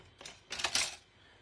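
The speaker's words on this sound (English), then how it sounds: "So I think I'm going to snip that fringe off." Scissors snip the fringe off a piece of paper with a few quick, faint, close cuts in a quiet room during card making.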